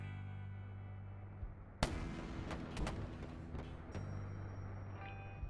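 Ship guns fire during strafing runs in the Wayward Terran Frontier space game, a sharp blast followed by several scattered popping shots over a steady humming engine drone, with no one talking.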